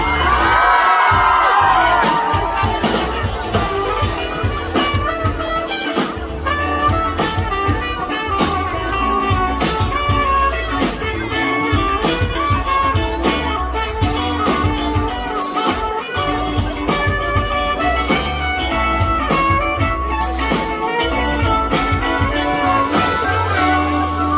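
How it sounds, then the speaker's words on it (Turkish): A large concert crowd in Eskişehir screams, whoops and cheers continuously and loudly for the whole stretch, a dense wall of voices without pause. "Aşka ihtiyacı olanlar şöyle kocaman bir çığlık atabilir mi?"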